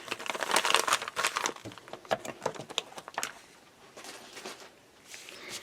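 A plastic bag is folded back into shape, giving close crinkling and crackling, dense at first and then thinning to softer, scattered rustles.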